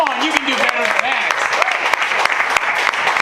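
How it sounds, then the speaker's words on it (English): A studio audience claps for football player Jameel McClain, a short burst of dense applause, loud and close, with a voice speaking over it. "Give it up for Jameel McClain, everybody."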